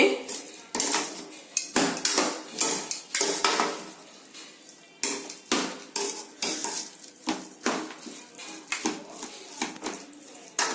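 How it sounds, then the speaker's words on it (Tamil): Mint rice (pudina sadam) being mixed in a metal pot with the stove off, a ladle clanking and scraping against the sides in uneven bursts, close and fairly loud, with no one talking. "ஸ்டவ் ஆஃப் பண்ணிட்டு கலருங்க ரெண்டையுமே"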